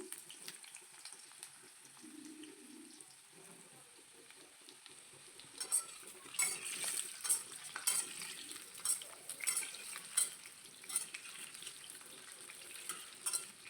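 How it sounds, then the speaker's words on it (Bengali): Potatoes frying in hot oil in a pan, a steady low sizzle at first that grows louder with rhythmic stirring and scraping bursts in the second half, with no talking. "তেলটা একটু গরম হয়ে আসলেই আমি দিয়ে দিচ্ছি আলুগুলো। আমি প্রথমে সবগুলো আলুকে দিয়ে খুব সুন্দর করে লাল করে ভেজে নেব"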